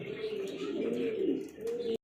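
Big-sized Lahori pigeons, a pair, coo steadily and close by in a continuous low throaty burble lasting the whole stretch, with a few faint chirps above it.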